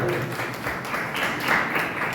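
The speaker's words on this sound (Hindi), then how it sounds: "जोरदार तालियां" Applause rises during a teacher-training session on teaching social science, a dense, moderately loud patter of clapping that stays even for a couple of seconds.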